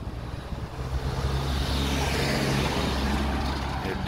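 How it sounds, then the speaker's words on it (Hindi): A Luton delivery van passes along a residential road. Its engine gives a low, continuous rumble with rising tire and wind noise as it goes by, loudest near the middle of the clip. "ये डिलीवरी वैन है, लाइक फर्नीचर वगैरह रिमूव करवाना हो ये उसकी वैन है, ल्यूटन ट्रक कहा जाता है इसको।"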